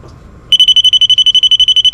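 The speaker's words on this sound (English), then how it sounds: "So it's going to beep like that when you tap it on things sometimes" An electrical tester beeps rapidly after a circuit breaker has tripped during a downlight install: quiet at first, then a loud, high, evenly pulsed series of about fifteen shrill beeps, close up.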